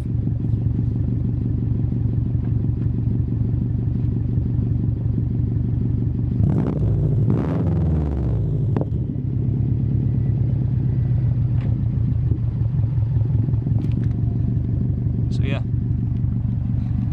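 A 2006 Subaru Impreza WRX STI idles with a lumpy, throbbing boxer rumble close by, then blips in a quick rev to about 2,500 rpm and settles back, while someone talks over it.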